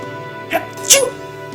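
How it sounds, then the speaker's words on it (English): A Fate/Grand Order game character gives a short voiced sneeze, a quick gasp followed by a sharp burst, close and clear over a quiet music bed. "That was a close sneeze."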